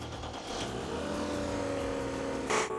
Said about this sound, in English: That's an engine that's running perfectly well.